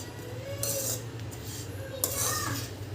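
A metal spoon clinks and scrapes in a pot while cardamom powder, cashews and almonds are stirred into sweet daliya, with two brief bursts of clatter over a low steady background hum.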